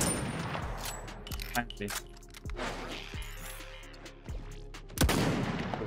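Gunfire in the battle royale game Realm Royale, with sharp repeated shots and bursts scattered across the clip and a heavy blast near the end, under someone talking.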